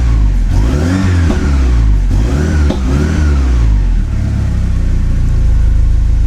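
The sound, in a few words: Porsche 944 Turbo engine revving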